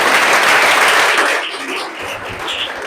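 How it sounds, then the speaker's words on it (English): Applause from an audience at an anti-drug campaign event, a close burst of clapping that fades after the first second and a half to lighter scattered claps. "Let's clap for him, please."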